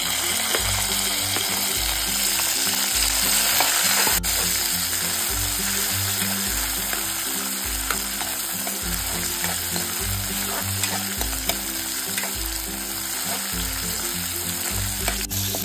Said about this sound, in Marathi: इथे ना आपला टोमॅटो परतला जातोय